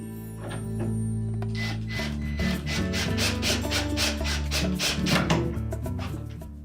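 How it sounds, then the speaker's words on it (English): A screw is driven into a Frigidaire refrigerator front roller assembly, giving a steady grinding, rasping scrape with rhythmic bursts, close and alone. "And we'll install that screw first."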